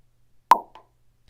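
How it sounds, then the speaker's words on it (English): One short, crisp pop from an iPhone ringtone, a quick percussive plop against near silence followed by a faint softer tail. "And it's a pop. That's all it does. Just keeps on popping."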